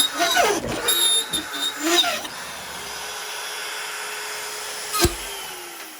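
A CNC router spinning at 25,000 RPM and cutting 3/4 inch deep at 250 inches a minute makes a loud, rough cutting roar for the first two seconds. A steady high whine follows, with a brief sharp burst near the end.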